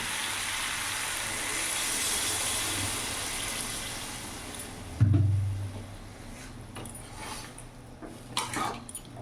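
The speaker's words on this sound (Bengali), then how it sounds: "এবার আমি জল দিয়ে দেবো" Water poured into a cooking pot of prawns with pumpkin and green peas on a gas stove makes a broad hissing rush, then a sudden low splash and sizzle around five seconds, fading to scattered bubbling and clinks.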